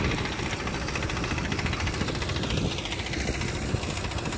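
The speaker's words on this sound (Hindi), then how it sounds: "स्पीड देख सकते हो ट्रैक्टर की चल रहा है" Tractor engine, a John Deere 5405, running steadily in first gear while pulling a Happy Seeder through rice stubble, a loud continuous diesel drone and rattle at close range throughout.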